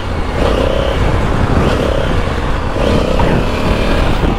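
A Honda Africa Twin motorcycle engine revs in repeated bursts as the rider pulls a wheelie with ABS switched off, a loud, close drone that rises and falls several times.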